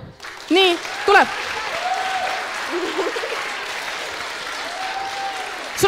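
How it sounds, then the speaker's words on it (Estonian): Audience at a youth forum theatre event applauds continuously in a steady wash of clapping, with a voice calling out briefly over it at the start. "Aplaus palun."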